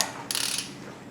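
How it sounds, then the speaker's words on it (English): A torque wrench ratchets while tightening a front suspension bolt on an Audi A4, a short burst of quick metallic clicks heard close and alone. "This torque wrench is super precise, but it's a pain."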